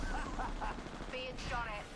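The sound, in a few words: gunfire in video game Apex Legends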